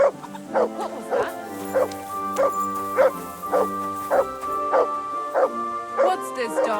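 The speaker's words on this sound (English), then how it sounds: "What's this dog doing here?" A dog in Kingdom Come: Deliverance II barks repeatedly in a regular rhythm of short, bright yips, close and clear over a low sustained musical drone.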